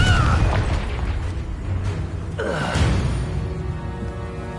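Fiery spell blasts in a wizarding video game, several booming bursts with crackling debris rolling out over about four seconds at close range, no voices.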